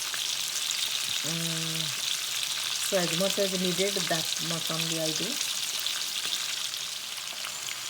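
Fish pieces fry in oil with a constant crackling sizzle, while someone talks over it in several short phrases.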